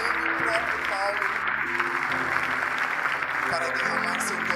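A church congregation in Windhoek, Namibia claps in steady, sustained applause while someone speaks loudly over it.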